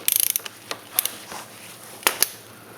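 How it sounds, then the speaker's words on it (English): A ratchet wrench loosens the oil filter on a Suzuki SV1000S motorcycle, giving a quick flurry of light clicks followed by a few scattered, faint ratcheting ticks in a quiet space. "Now we're going to go ahead and use the same wrench on the oil filter."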